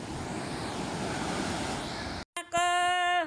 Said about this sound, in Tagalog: Yan na po ang aming alon.